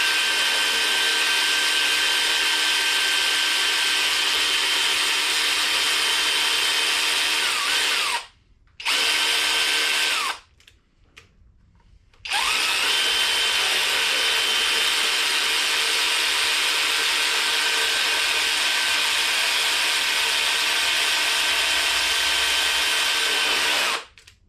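Power tool driving threaded bolts into engine main bearing caps on a high-mileage junkyard motor being refreshed, a loud continuous whine running near and steady, broken by two short pauses partway through, no talking.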